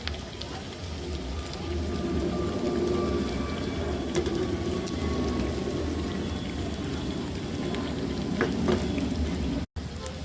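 Potato vadas for fasting (upasache batata vade) deep-fry in hot oil, a continuous bubbling sizzle like steady rain, with faint occasional clinks, near and moderately loud.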